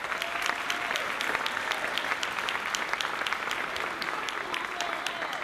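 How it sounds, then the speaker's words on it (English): A high school graduation audience gives a steady round of applause for the principal and staff, a dense, even wash of many hands clapping at moderate distance, with faint crowd voices. "let's give them a round of applause"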